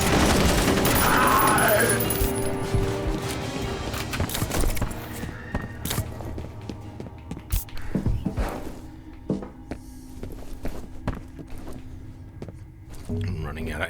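Gunfire in the video game F.E.A.R. Perseus Mandate, a loud burst of shots at the start followed by scattered sharp reports, impacts and game sounds fading through the rest.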